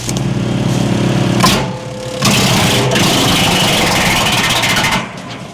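An LS tractor engine drives a big wood chipper, loud and close, laboring in a heavy drone that dips, surges back into a rough grinding roar, then drops away as the engine stalls.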